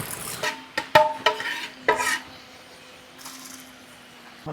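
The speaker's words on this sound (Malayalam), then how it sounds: "നമ്മൾ ഏകദേശം നമ്മുടെ നാൽപ്പത് കിലോയോളം മീൻ നമ്മൾ വറുത്ത് കോരിക്കൊണ്ടിരിക്കുകയാണ്" Around forty kilos of fish deep-fry in a big vat of oil. Several loud metallic clanks of scooping and stirring come first, then a soft, steady sizzle takes over.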